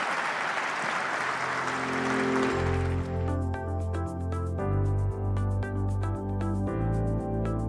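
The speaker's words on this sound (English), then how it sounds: "Ladies and gentlemen, please a round of applause for Omid, Malik, and Donald Trump Jr." An audience at the FII9 plenary gives a short burst of applause for the panel speakers, and it gives way after a couple of seconds to a bright, rhythmic run of melodic chime-like music notes.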